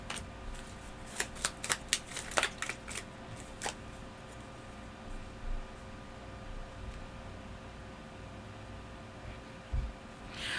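Tarot cards being shuffled by hand, a quick run of crisp riffling snaps and slaps close up, then a long near-silent pause with only faint handling.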